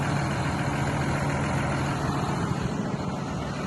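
A tractor's heavy engine idles steadily and close, a low continuous rumble with no talking over it.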